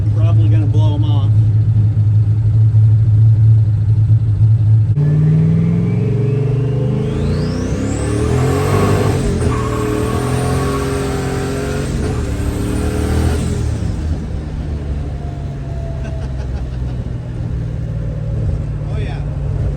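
A turbocharged Fox-body Mustang on a dyno with small street tires roars loudly, its engine note climbing through a long rising rev run, then settling back to a steady rumble.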